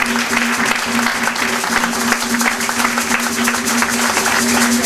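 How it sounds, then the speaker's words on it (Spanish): An audience applauds performers at a community cultural event in a museum, producing a loud, sustained, dense clapping that holds steady throughout, with a low steady hum beneath and no clear speech. "Démosles un aplauso a ellos."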